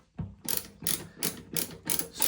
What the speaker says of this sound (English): unscrewing this, which is actually the outlet pipe